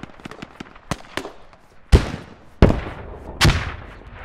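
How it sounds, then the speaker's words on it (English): Mortar explosions in the video game Squad, several sharp blasts with crackling tails, a few lighter distant pops first, then three heavy booms in quick succession. "Those mortars need to go east, not west."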